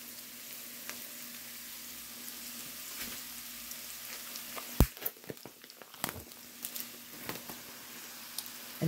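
Beef sausage and hamburger meat fry in a pan with a steady close sizzle, while a utensil breaks the meat up, adding scattered sharp clicks and scrapes, busier in the second half.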